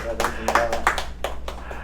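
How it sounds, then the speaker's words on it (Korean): Sparse, steady hand claps from a small congregation at a church's fall-semester opening worship service after a scholarship presentation, each clap a crisp separate burst in a roughly even rhythm at moderate loudness. "다시 한번 박수하겠습니다"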